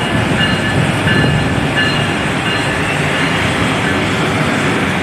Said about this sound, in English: Just look at that locomotive pulling into Emeryville Station.